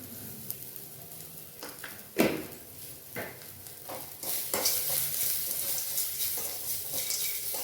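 Onions and bitter gourd sauté in a pan for Tamil bitter gourd puli kootu as salt and turmeric are added, a spoon clanking and scraping a few times over a growing steady sizzle.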